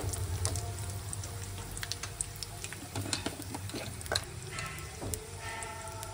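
Dry red chillies sizzle in hot oil for mango pulihora with a steady close crackle, small pops and occasional stirring clicks.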